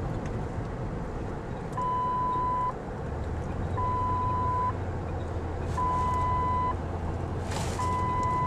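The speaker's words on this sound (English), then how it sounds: "Stop beeping." Repeated steady beeps, about one second each with one-second gaps, from a reversing vehicle, over a constant engine and road rumble.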